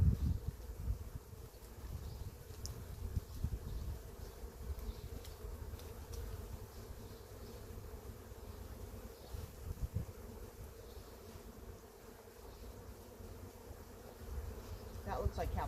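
Honey bees buzz steadily around an open hive, a soft continuous swarm drone with individual insects passing close now and then, faint and without speech.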